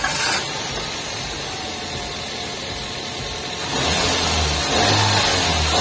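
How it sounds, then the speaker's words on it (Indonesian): Daihatsu Gran Max van with a 1500cc 3SZ engine starting up and revving, the steady near engine drone rising louder toward the end, with no talk over it. "Yuk kita start up dulu."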